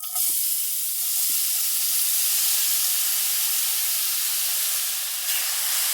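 Grated carrot sizzling in hot ghee in a pan for carrot halwa, a loud, steady hissing fry that stays even from start to finish, close up and with no talk.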